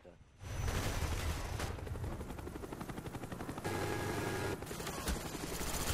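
An enemy helicopter drones steadily in a Call of Duty Black Ops team deathmatch, with rapid gunfire crackling over it in a dense, continuous game soundscape.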